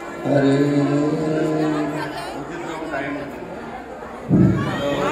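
Dense crowd chatter fills a Shiva temple courtyard during the Mahashivratri festival, a steady murmur of many voices with a louder burst of nearby voices near the end.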